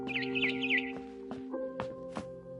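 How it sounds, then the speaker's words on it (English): A barn swallow gives a short run of high, warbling chirps, then a few brief sharp notes, set against sustained steady tones in the background. "Then I heard chirping outside my window."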